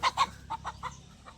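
A hen being chased lets out a quick run of short, sharp clucks, about six in a row that fade slightly toward the end, heard at moderate distance with little else around.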